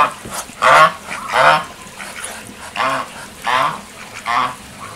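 Ducks and chickens kept behind a homestay in Mechuka, Arunachal, calling in a series of loud honking, quacking bursts, about six calls spaced across a few seconds, nearby and without talk.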